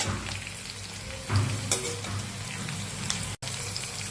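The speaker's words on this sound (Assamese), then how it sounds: "এয়া মই জলকীয়াখিনি তেলতে দি দিছোঁ।" Green chillies dropped into hot oil in a home kitchen while a fish dish is being cooked, giving a steady soft sizzle with a brief louder crackle as they go in, close and alone.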